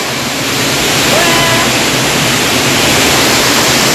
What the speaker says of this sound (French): on est arrivé à la cascade